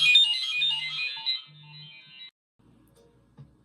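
A phone ringtone rings loudly alone, a bright repeating electronic melody with low pulsing beats that stops abruptly after a couple of seconds, followed by faint quiet rustle.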